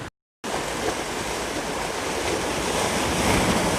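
Sea waves of the Strait of Malacca at Tanjung Tuan, a steady loud wash of surf mixed with wind noise, heard alone after a brief moment of silence at the start.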